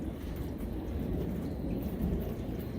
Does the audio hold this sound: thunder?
yes